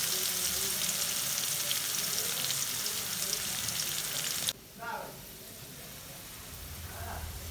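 Garlic goes into a pan of hot oil, where a strong sizzle runs loud, then drops sharply to a quieter crackle, close up with no talk.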